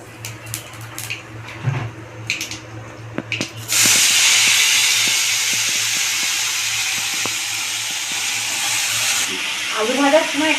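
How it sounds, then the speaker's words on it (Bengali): Black cumin seeds drop into hot oil left from frying fish and burst into a loud, steady sizzle that starts abruptly after a few light clinks and holds for several seconds, then eases slightly near the end. "মাছ ভাজার তেলেই আমি কালো জিরেটা দিয়ে দিচ্ছি।"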